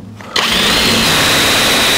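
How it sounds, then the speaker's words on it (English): A power drill bores out steel bracket holes to 7/16 inch for mounting a master cylinder on a 1949 Chevrolet gasser, starting abruptly after a brief quiet moment and then running steadily with a high whine close to the microphone. "we have to enlarge the holes to 7/16"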